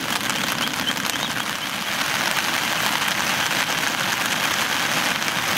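Rain falls at a riverside campsite on the Kasukawa river, a steady, dense patter drumming on surfaces with no pauses, loud and close throughout.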